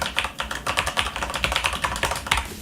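Fast, steady typing on a Corsair K95 RGB Platinum mechanical keyboard with Cherry MX Speed switches: a close, crisp run of rapid keystrokes clacking alone, with no talk.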